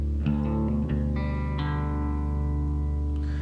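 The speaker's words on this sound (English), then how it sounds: "I love the reverb and I love the texture of the guitar" Reverb-drenched guitar from a track rings out with sustained, shimmering chords and long echoing tails, steady and moderately loud with no voices over it.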